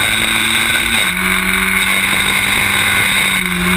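Historic Formula Ford single-seaters race at Snetterton, their engines droning loud and close, with a steady high whine and a pitch shift partway through as a car changes gear.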